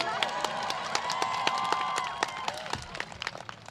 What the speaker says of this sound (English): go ahead, clap, be proud